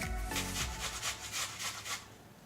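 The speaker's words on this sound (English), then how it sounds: "We're gonna take the large holes of our cheese grater and grate our onion." An onion rubbed across the large holes of a cheese grater, a series of quick rhythmic rasping strokes, close and fairly soft, with no talking.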